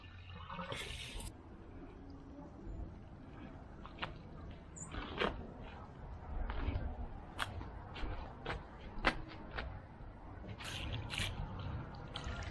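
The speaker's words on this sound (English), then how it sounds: "most of the water pressure is released through a break in the pipe underneath the concrete" Water escaping from a pipe broken by tree roots under backyard concrete after the valve is turned on, a faint continuous hiss and trickle with scattered drips and splashes.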